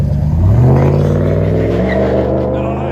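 A 2012 RAM 1500 pickup with a 5.7L HEMI V8 and Flowmaster dual exhaust revs up hard, its deep engine note rising and holding steady, loud and close throughout.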